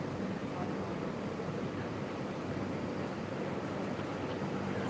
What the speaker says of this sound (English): The weather is feeling very nice, very cool, very windy.